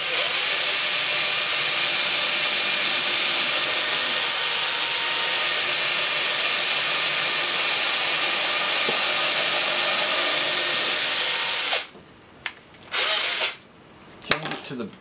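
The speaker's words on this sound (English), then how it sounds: "run our first drill bit in." A power drill whines steadily and loudly for about twelve seconds, then cuts out and restarts in a few short bursts.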